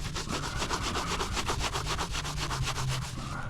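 A scrubbing pad rubs across the body of a dirty Pontiac V8 project car in a steady, rapid back-and-forth rhythm, close and continuous with no talk.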